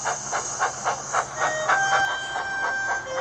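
Steam locomotive puffing steadily in a regular chuffing rhythm of about four beats per second under a constant steam hiss, with a brief whistle-like tone midway.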